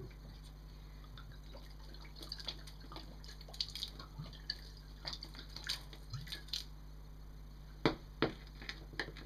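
Bottled water poured over an inner-tube shoe cover, giving faint scattered drips and splashes over a steady low hum, with a few sharper spatters near the end.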